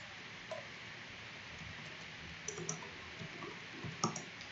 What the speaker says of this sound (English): I'm typing in my email address.